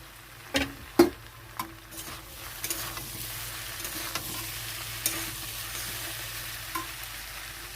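Malabar spinach stalks frying in a pan, a quiet steady sizzle broken by several sharp clanks and scrapes of a spoon stirring, loudest near the start.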